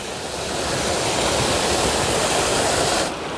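A stream beside a hiking trail on the Appalachian Trail rushes in a steady, broadband wash of flowing water, fairly loud and continuous, with no voices.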